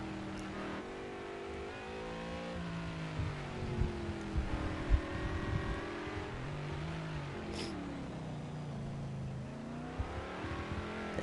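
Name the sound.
McLaren race car engine in Project Cars 2 video game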